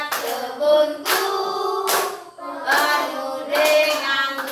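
Young children sing together in class while clapping their hands in a regular rhythm, with the sharp claps cutting through the close, sung melody.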